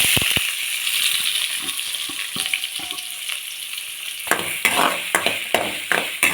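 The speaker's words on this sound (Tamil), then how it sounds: "நல்லா வதக்கி விடுங்க கலர் சேஞ்ச் ஆகணும்" Small-cut onions sizzle steadily in hot oil while being sautéed for an okra dish, with a spoon scraping and clinking against the pan in a quick rhythm.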